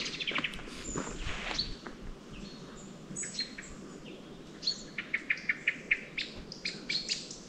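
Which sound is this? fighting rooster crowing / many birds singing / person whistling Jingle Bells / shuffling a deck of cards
many birds singing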